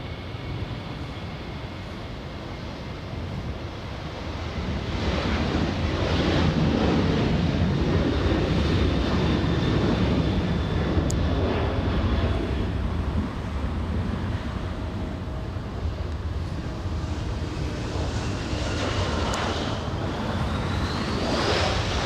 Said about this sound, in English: Takeoff, we have Delta 2606 flying to Seattle, Washington